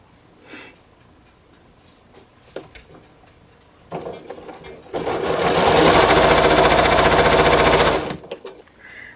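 A sewing machine stitches quilt block pieces together for a four-patch, starting after a few soft handling clicks and then running in one steady, loud burst of about three seconds before stopping.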